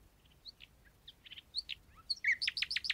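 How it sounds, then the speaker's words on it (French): A nightingale sings at night in a forest near a reed hut, with scattered high chirps and whistles building into a denser run of bright, rapid notes toward the end, fairly close and clear over a quiet background. "Un rossignol, ému par la lumière lunaire, chanta la joie de vivre éternellement."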